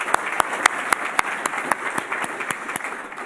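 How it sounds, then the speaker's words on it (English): Audience at a Columbus Metropolitan Club luncheon applauds after Ohio State University is mentioned, a regular run of distinct, evenly spaced claps over a softer bed of many hands, steady for a few seconds. "Round of applause."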